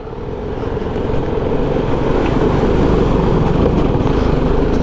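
A motorbike crossing a water stream on a rough, dangerous off-road trail in Baboon Valley, its engine a loud, steady drone mixed with rushing splashing water, close and continuous.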